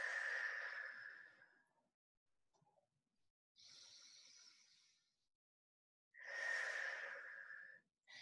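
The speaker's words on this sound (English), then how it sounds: "Two deep breaths." Slow, deep breaths in a yoga class while resting in child's pose: three long, airy, slightly wheezy exhales with quiet pauses between them, close and fairly soft.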